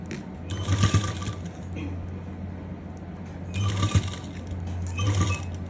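A sewing machine stitches elastic lace in bursts, with whirring runs near the start, around four seconds and near the end, each with a rattling mechanical hum. Quieter handling noise fills the gaps, and a voice is faintly present.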